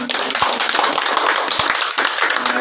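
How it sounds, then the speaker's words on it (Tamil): A live audience at a Tamil film event claps for the director, a dense, steady run of applause with sharp individual hand claps standing out, loud and close, with no talking over it. "நாங்கள் முதல்ல இயக்குநருக்கு மிகப்பெரிய ஒரு கைத்தட்டலை"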